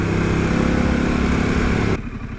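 A Harley-Davidson Pan America motorcycle engine runs at very slow speed, giving a close, steady, throbbing drone that drops off sharply near the end.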